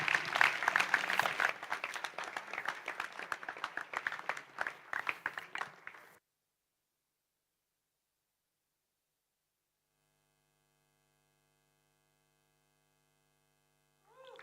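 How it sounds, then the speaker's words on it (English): A crowd at an evening Navaratri Puja celebration applauds the dancer Fatima Varma, with steady, lively clapping for about six seconds that then cuts off abruptly into near silence. "Can we have a big hand and a round of applause for the amazing Fatima Varma?"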